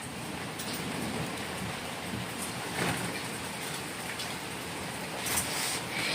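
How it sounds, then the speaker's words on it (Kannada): Heavy rain pours steadily in a constant broadband hiss, with faint low rumbles of thunder swelling briefly around the middle and near the end; no one speaks. "ಇವತ್ತು ಮಳೆ ಬಂತು ನೋಡಿ ಸಖತ್ತಾಗಿ ಮಳೆ ಬರ್ತಾ"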